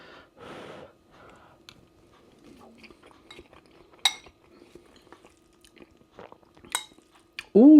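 Cutlery scraping a takeaway-style rice dish from an Iceland ready meal, followed by close, soft chewing and breathing with a few sharp clinks, while a voice speaks briefly near the end.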